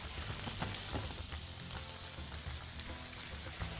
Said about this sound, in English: So flip that around and cook those beans for about another 2 minutes.